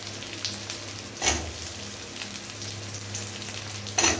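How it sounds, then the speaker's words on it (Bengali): Chopped onions fry in a pan for chilli cauliflower, giving a steady close sizzle with a couple of sharp utensil scrapes as they are stirred. "পেঁয়াজগুলো দিয়ে একটু নাড়াচাড়া করে নেব।"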